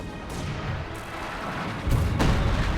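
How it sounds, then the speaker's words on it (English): Artillery fire in Company of Heroes 2 rumbles as a continuous low barrage with a couple of heavier booms landing, moderately loud and without talk over it. "Some kind of artillery's going down here."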